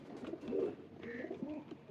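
Close, quiet cooing from high-flying breeding pigeons: low, throaty murmurs rolling on in a steady stream with a few brief higher notes, no voices over them.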